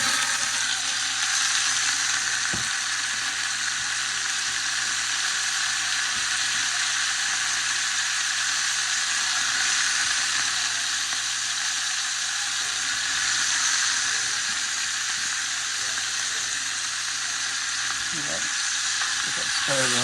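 Chopped onions, peppers and celery sizzling and frying in a pot for jambalaya, a loud continuous hiss held steady throughout, with a brief stirring clank near the end.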